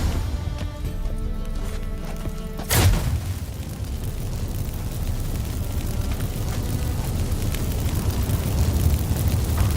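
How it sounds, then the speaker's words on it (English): A magic fireworks blast in The Witcher 3 game: one sharp bang rings out near three seconds, then a low rumbling, crackling roar carries on steadily to the end, with a tonal in-game bed at the start. "Get ready for some magic fireworks."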